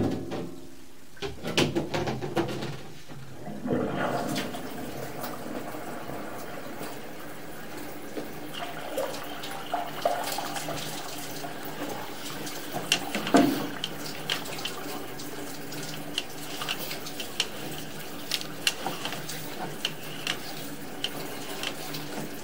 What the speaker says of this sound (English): We're also going to run some sinks, trying to get a lot of water flow through here to get this line flushed out